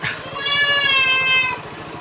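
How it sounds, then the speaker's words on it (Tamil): A goat kid bleats once, a wavering, nasal cry lasting about a second, close by against a faint low background. "இது வந்து நம்ம ஆட்டுக்குட்டிங்க"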